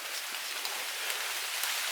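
Steady rain falls on a hiking trail of Vermont's Long Trail between Middlebury Gap and Lincoln Gap, making a continuous close hiss of drops pattering on leaves and ground throughout, with no voices.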